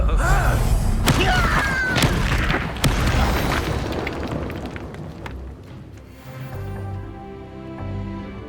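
A Confringo fire spell bursts in Hogwarts Legacy, one loud booming explosion with crackling debris that rolls into a sustained rumble and fading game music, under brief spoken voices.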